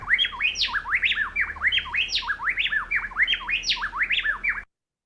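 A recording of a male and female bird pair calling together, with rapid rising and falling squawky notes in a steady rhythmic duet that runs continuously and clearly, then stops abruptly.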